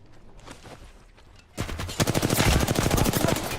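Rapid automatic gunfire in Apex Legends: after a quieter stretch of scattered shots, a loud, close burst of fast, evenly spaced rounds carries on for about two seconds with no talking.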